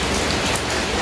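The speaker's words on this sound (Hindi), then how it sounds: "4-5 दिन से गर्मी बहुत ही ज़्यादा हो रही थी तो फाइनली आज बारिश हो गई" Steady rain falls after several days of intense heat, a dense, even hiss of drops striking surfaces close by that fills the whole second with no voices.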